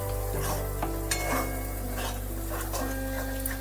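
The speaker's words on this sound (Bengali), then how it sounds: "দিয়ে এবার তেলের মধ্যে ভালোভাবে কষাতে হবে।" Chicken with ground spice paste frying in oil in a kadai, a steady close sizzle with faint stirring scrapes and a low constant hum beneath, no talk.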